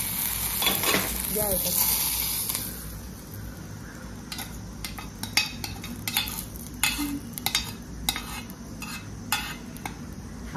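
Curry leaves dropped into hot oil for vada pav, crackling and sizzling steadily while a spoon stirs with sharp scraping clicks against the pan, a voice speaking briefly near the start.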